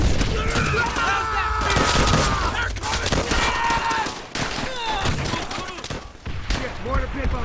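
Sustained rifle and machine-gun fire crackles in a Call of Duty: World at War battle, dense bursts of shots and booms layered with shouting and game voices throughout.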